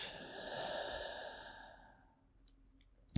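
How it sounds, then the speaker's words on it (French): A long, soft exhalation through the mouth during yoga breathing, a breathy rush fading over about two seconds, close and quiet, followed by faint small clicks. "expirer par la bouche."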